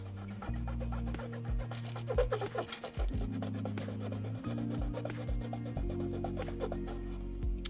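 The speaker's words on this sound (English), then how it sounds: "Just secure it down and just lightly let the saw do the work. I'm not really pushing very hard at all." A hand saw draws slowly back and forth through styrene plastic sheet, producing close rhythmic rasping strokes with light pressure and brief pauses between passes.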